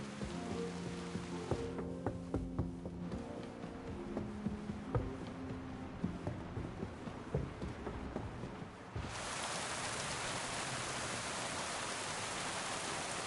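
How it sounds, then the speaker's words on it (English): Rain in a video game (Kingdom Come: Deliverance II) pours steadily as a soft hiss under sparse ambient tones, then swells abruptly into a louder, denser downpour for the last few seconds. "It's raining."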